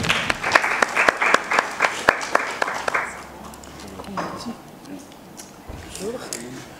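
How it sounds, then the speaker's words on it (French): A crowd at a press conference in Kinshasa claps in welcome for a guest, bright, loud applause with sharp individual claps for about three seconds, then dying down into murmurs and room noise. "qu'on peut aussi applaudir"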